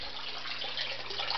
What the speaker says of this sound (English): you can see a little bit of trickling now